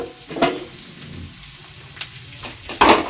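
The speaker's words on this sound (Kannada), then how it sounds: "ಈರುಳ್ಳಿ ಫ್ರೈ ಮಾಡಿಬಿಟ್ಟೆ" Onions frying in a pan give a steady, close sizzle throughout, with a few sharper bursts of crackle and scraping stir sounds near the start, middle and end.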